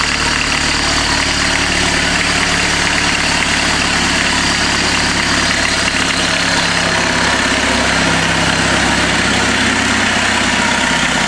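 A VW diesel motor, started on a chain, runs in a steady, loud, continuous low rumble throughout, with no voices heard.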